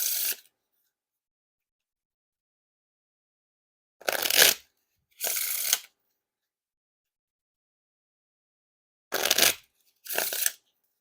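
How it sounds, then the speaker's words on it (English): Black Bicycle Standards playing cards are riffle shuffled in four short, crisp bursts, close and clear, with long quiet gaps between each shuffle. "Now for a few riffle shuffles or bridge shuffles."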